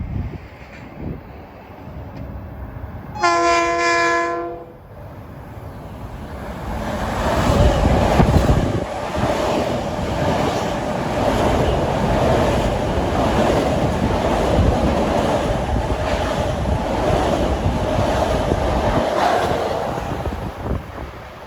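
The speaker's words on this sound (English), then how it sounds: "here comes train 658 en route from Penn Station, New York to Port Jeff" Westbound commuter train 658 from Penn Station to Port Jefferson sounds a short loud horn for the 12th Street crossing at New Hyde Park, then approaches with a steady rising rumble of wheels and cars that fills the rest of the scene.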